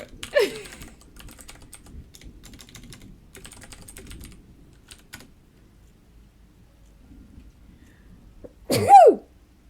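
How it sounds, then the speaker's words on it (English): A single sneeze bursts out near the start, followed by soft computer keyboard typing through the middle, then a short, loud rising electronic stream alert chime near the end. "the sneeze and the alert happened at the exact same time"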